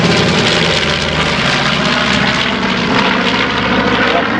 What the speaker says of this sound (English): Here comes another look at Grumpy, the B-25.